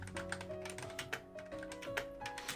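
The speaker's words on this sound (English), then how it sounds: "typing it out in the game chat." Rapid typing on a computer keyboard into a game chat, a steady run of light key clicks heard faintly under a low background hum.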